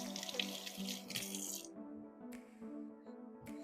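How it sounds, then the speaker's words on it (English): Kitchen tap water running over sticky hands at a sink, a steady broadband rush for the first second and a half, then brief splashes and drips with a faint low hum underneath. "You just wash the sticky off my hands"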